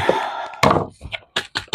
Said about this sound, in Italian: solita procedura di battere un po' per togliere bolle d'aria spazi vuoti